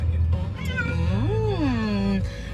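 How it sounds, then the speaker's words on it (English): An unhappy cat gives one drawn-out, rising and falling meow, loud and close, with a faint voice in the background. "That cat's unhappy."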